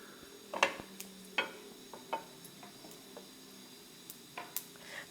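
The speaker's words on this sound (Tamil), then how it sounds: "முதல்ல கடுகு தாளிச்சிக்கலாம்." Mustard seeds tempering in hot oil for beach-style chickpea sundal, a faint steady sizzle broken by scattered sharp pops and crackles, close and fairly quiet with no talking.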